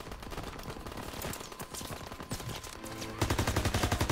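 Gunfire from a Call of Duty WWII battle crackles in rapid bursts throughout, building into loud sustained machine-gun fire near the end, with no talk over it.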